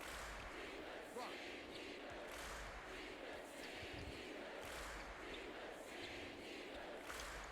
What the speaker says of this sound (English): I love that I love the crowd chants.